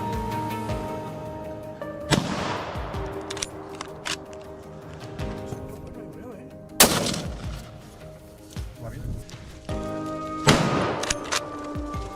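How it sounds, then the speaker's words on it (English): Hunters fire guns at a herd of wild boars in the woods, giving several loud gunshot cracks spread over the stretch. Each blast rings out over steady low outdoor noise and faint background sounds, with no talking. "Only when the shots rang out did the herd begin to scatter."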